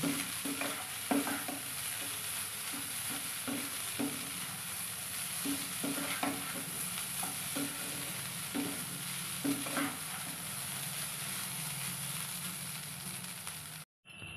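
Leftover cooked rice is stirred and fried in a pan with salt, giving a steady soft sizzle under repeated scraping strokes of a spoon, close and fairly quiet, before a sudden cut at the end.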